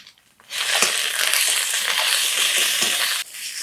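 Onion frying with ginger-garlic and green chilli paste, turmeric and chilli powder for a soyabean curry: a loud sizzling burst begins after a brief quiet start, holds steady with a stir or two, then drops away near the end.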